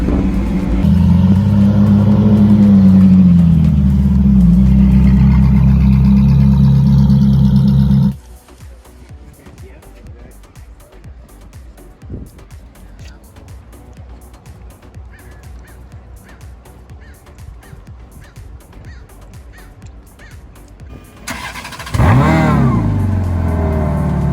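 Engine of a stock Ferrari F430 on an American mountain pass, loud revving and droning for about eight seconds, then a quieter low rumble from inside the car, before a loud rev swells back near the end.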